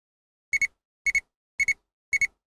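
An ANCEL PB100 automotive circuit probe tester gives its negative-polarity tone, four evenly spaced double beeps that sound close and clean against silence.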